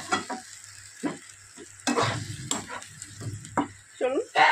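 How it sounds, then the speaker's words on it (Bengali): Soya chilli sizzles and fries in a pan over a low gas flame while a utensil stirs it, with intermittent scraping strokes over a steady crackling sizzle. "এবার এটা একটু নাড়াচাড়া করে দেবো।"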